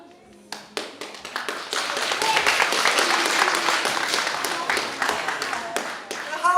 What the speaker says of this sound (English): The holding of the applause went out the window there